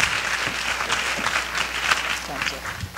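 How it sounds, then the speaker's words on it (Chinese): An audience in a lecture hall claps for a speaker, a dense, even patter of many hands that holds steady for several seconds amid the room's ambience. "我们所有的人给他掌声"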